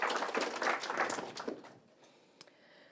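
An event audience applauds at a pitch competition final, a dense burst of clapping that fades out over a couple of seconds into near silence with a stray clap.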